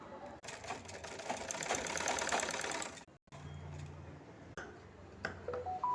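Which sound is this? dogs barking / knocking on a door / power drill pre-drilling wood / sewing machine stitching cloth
sewing machine stitching cloth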